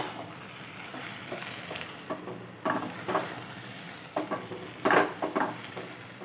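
Chal potol curry with a little ghee is stirred in a pan, with soft sizzling and repeated scraping strokes of a spatula that come in irregular bursts, fairly quiet and without talk.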